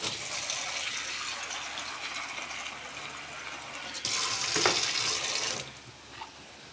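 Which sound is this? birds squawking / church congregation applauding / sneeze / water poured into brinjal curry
water poured into brinjal curry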